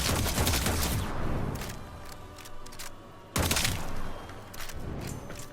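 Kuva Seer pistol firing in the Warframe video game: loud, sharp bursts of rapid shots cluster at the start, trail off into quieter rattling, then a fresh hard volley breaks out near the end, with no talking.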